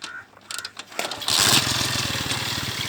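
A Honda motorcycle engine cranks and starts after a moment of quiet, then settles into a steady, loud, close idle with a rapid even putter.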